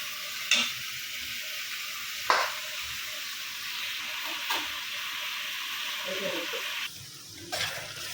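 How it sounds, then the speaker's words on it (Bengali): Ginger, garlic and spices are stirred and fried in a pan, giving a quiet, continuous sizzle with a few sharp scraping strokes of the spoon. No voices are heard. "এই যে মশলাটা কষায় নিতেছি সুন্দর করে সুন্দর করে কষায় নিব"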